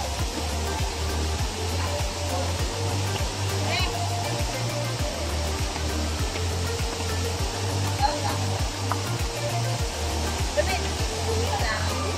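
Lawan Falls waterfall roaring as a steady, dense rush of water, loud and continuous throughout, with a low rumbling pulse underneath.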